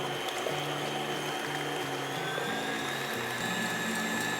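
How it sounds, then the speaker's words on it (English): An electric mixer whirs steadily as it beats egg whites toward soft peaks, a continuous motor hum with a shifting, slightly stepping pitch throughout and no talking. "with the mixer still running, we're going to add the sugar in and then continue beating it until stiff peaks form"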